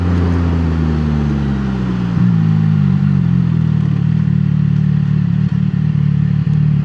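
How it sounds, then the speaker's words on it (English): A motorcycle engine settles from a higher rev into a steady, throbbing idle, loud and close, with a few light clicks. "Like, listen to the idle. The idle is just so nice."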